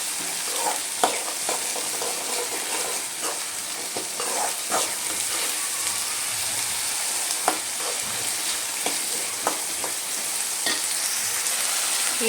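Soaked hyacinth beans (avarekalu) frying with onion in a pan, a continuous close sizzle with soft scraping stirs throughout, no voices.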